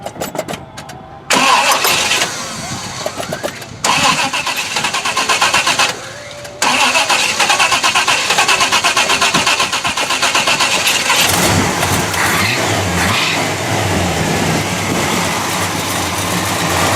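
A 1970 Pontiac GTO Judge engine cranks in short bursts, catches, and settles into a loud, steady, rumbling run close by, with a brief stumble before it holds a constant roar.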